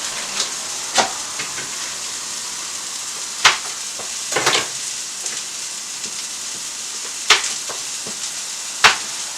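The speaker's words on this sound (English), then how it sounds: "I'm going to use an entire stick of butter. I think I'll put about half of it in there" Butter sizzles in a hot cast iron pan as a filet mignon cooks, giving a steady close frying hiss broken by a few sharp pops and scraping clicks, with no talk.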